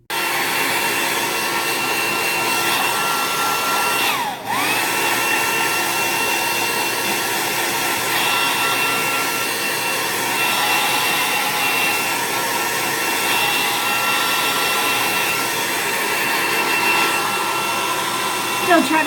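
Hair dryer blowing steadily on layers of foundation makeup, a continuous loud close whir with a brief dip partway through.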